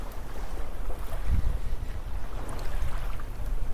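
Steady ocean waves wash and rumble on a sunny, breezy beach, a continuous close surf roar with wind noise and no voices.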